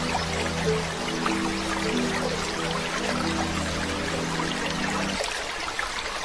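Sea water splashes and streams around a boat in a cartoon, a steady flowing wash under a low tonal hum that cuts off near the end.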